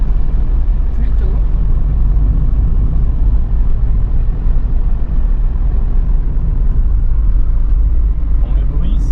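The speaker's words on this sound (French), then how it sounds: "Le moteur est un petit peu bruyant." A 1985 Mazda 626 coupé's engine drones steadily from inside the cabin while driving, a muffled low rumble with constant loudness throughout.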